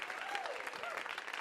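A live audience at a comedy show at KQED Studios in the Bay Area claps for the DJ, a brief burst of dense, steady applause heard under a voice.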